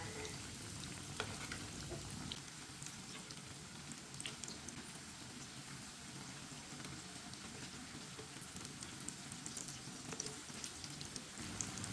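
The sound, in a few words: frying food, stirred with a spoon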